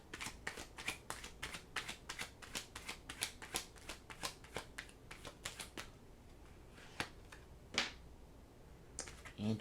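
Tarot cards are shuffled in a fast run of crisp, close riffling snaps, then a few slower separate flicks and slaps as cards are drawn and laid down, with no talk.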